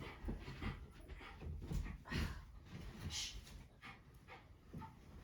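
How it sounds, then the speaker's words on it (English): A 14-and-a-half-year-old dog pants rapidly and steadily close by while playing, with a few soft whimpers mixed into the breathing. "and she's just playing behind me here."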